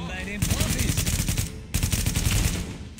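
Rapid automatic gunfire in the shooter video game Tom Clancy's The Division, with two close, loud sustained bursts of dense shots separated by a short break.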